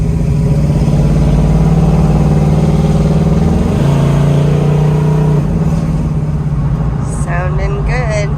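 A 1968 Pontiac Firebird V8 fitted with a small cam idles with a loud, steady, close rumble that dips briefly mid-way, while people talk over it near the end.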